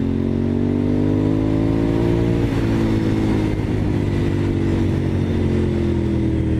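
A Honda VTR1000SP1 motorcycle accelerating hard out of corners, its loud V-twin engine close by, revving up in a steady rising drone throughout.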